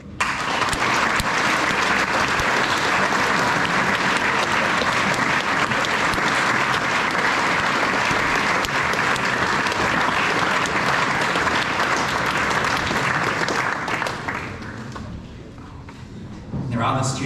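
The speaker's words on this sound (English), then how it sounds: "Let's give all of them a round of applause." Sustained loud applause from a crowd at a New Zealand high school assembly honouring scholarship winners, steady and dense for about fourteen seconds before tapering off near the end.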